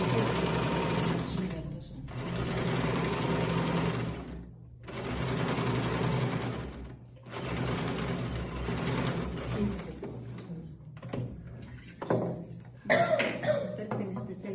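An electric sewing machine stitches a tuck or ruffle in fabric, running in several long, steady bursts separated by brief pauses, close and fairly loud, with a few coughs and scattered noises near the end.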